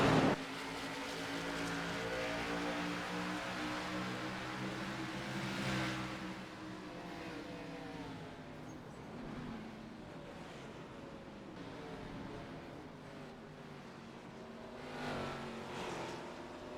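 NASCAR race cars at Phoenix raceway in a Friday night race, a loud continuous engine roar with rising and falling pitch as cars sweep past, steady throughout with no one talking.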